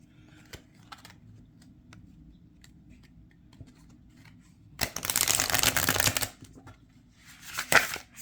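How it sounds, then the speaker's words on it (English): A Sylvankind Oracle deck of 70 by 122 mm cards being shuffled, quiet handling at first, then a brisk riffle of about a second and a half and a shorter burst soon after, close and crisp. "Let's do a quick shuffle."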